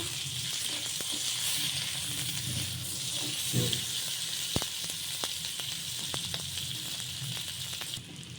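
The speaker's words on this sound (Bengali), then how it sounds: "ডিমগুলো দিয়ে দেবো একটু নেড়ে নেব" Eggs go into a hot pan with salt and are stirred while frying for an egg chilli dish, giving a steady broadband sizzle throughout with faint scraping clicks and a brief soft thump midway, no voices.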